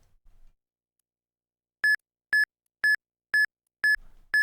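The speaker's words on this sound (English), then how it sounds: "Once Eon timer runs out, there will be 6 beeps" Six evenly spaced short electronic beeps from an Eon timer countdown used to calibrate a Nintendo DS for Pokémon Gen 5 RNG manipulation, crisp and loud against silence.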